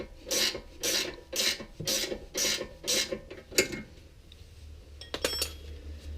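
A 19mm ratcheting spanner loosens a self-locking nut on a BMW E31 steering tie rod end. It makes a series of about seven regular rasping ratchet clicks, close by, followed by a few faint metallic clinks.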